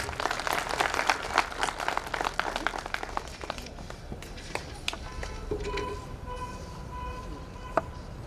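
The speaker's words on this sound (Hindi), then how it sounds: "उनका तालियों से स्वागत करें।" Applause welcoming the chief guest, the district collector of Udaipur, at a community gathering: scattered, fairly faint clapping from a crowd that tapers off, followed by shuffling and background murmur.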